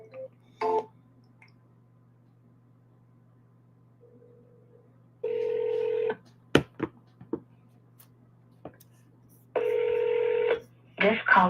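A phone call being dialed: a quick run of keypad tones, then repeated ringback tones with short silent gaps, plus a few clicks and a faint steady hum beneath.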